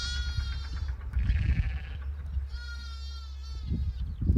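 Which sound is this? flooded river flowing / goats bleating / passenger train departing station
goats bleating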